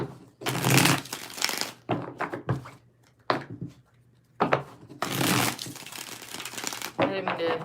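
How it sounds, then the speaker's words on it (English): A deck of tarot cards is shuffled in several brisk rustling bursts separated by short pauses, with a person talking in between. "3 more shuffles here."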